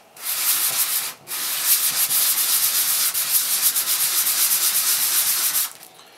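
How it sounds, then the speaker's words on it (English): Steady, hissing abrasive rub as one side of a wooden ring is sanded flat, loud and close, running almost continuously for about five seconds with one brief pause near the start. "Let's sand one side flat to make it easier to draw upon."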